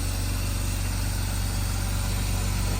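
A car engine idles steadily after a cold start, a smooth, even, close rumble with constant loudness and no revving or voices.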